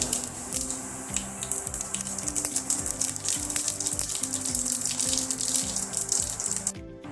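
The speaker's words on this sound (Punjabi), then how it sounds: "ਜੀਰੇ ਨੂੰ ਪਾ ਕੇ ਭੁੰਨ ਲਵਾਂਗੇ" Cumin seeds roasting in hot mustard oil for aloo matar sabji, a steady broadband sizzle and crackle that holds close and fairly loud throughout, with faint low clatter beneath and no voices.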